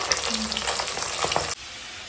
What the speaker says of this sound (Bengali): এখন মুড়ো ভাজা হচ্ছে এগুলো রুই মাছের মাথা ভেজে নিচ্ছে